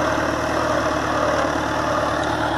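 A tractor engine runs steadily while cultivating a cornfield, a loud continuous drone with a low hum and no break or talk.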